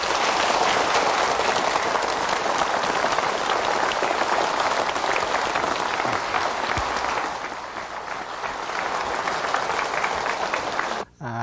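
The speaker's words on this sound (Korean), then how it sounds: "박수로 맞아주십시오." An audience applauds to welcome a professor onto a stage at a lecture, sustained dense clapping filling the room for about ten seconds before it briefly dips and then cuts off.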